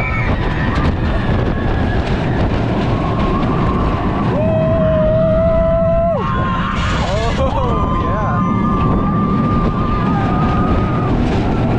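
Riders on El Toro, a wooden roller coaster at Six Flags Great Adventure, at sunset: a constant rushing roar of wind and track noise, with sustained whining tones and voices over it.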